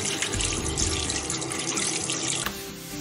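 Tap water pours steadily into a sink while a red bream (kinmedai) is rinsed clean of blood and belly membrane, a loud continuous gushing rush that briefly changes tone near the end.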